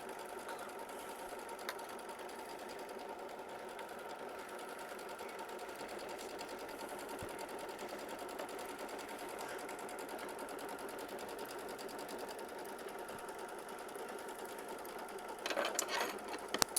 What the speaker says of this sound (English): you're going to sew machine stitch step 1 directly onto your stabilizer